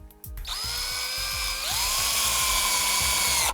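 A drill whines steadily and loudly at close range while it drives number 12 screws through a door hinge into a metal frame, and its pitch rises partway through, with no speech.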